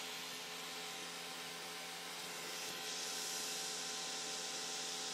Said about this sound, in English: you have this fan blowing